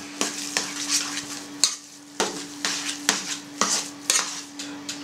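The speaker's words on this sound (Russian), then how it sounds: "Все это тщательно перемешиваем." A spoon stirs a soft cheese mixture with tarragon in a bowl, scraping repeatedly in a steady rhythm of close, fairly loud strokes over a constant low hum, with no talk.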